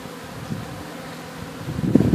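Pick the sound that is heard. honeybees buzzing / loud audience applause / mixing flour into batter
honeybees buzzing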